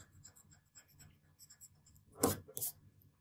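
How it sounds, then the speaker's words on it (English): Pencil lines on paper being rubbed out with an eraser during a Christmas craft session; soft scratchy scrubbing comes in two short bursts near the end, after quieter faint rustling and tapping. "I'm just going to rub out these lines so we don't get confused"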